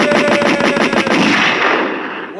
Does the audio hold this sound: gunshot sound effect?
yes